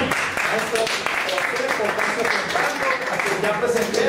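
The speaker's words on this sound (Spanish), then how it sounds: "vamos a darle un fuerte aplauso a nuestro expositor" Audience applause at a Bogotá music gathering, a steady dense wash of many hands clapping at even loudness from start to end, with no pauses.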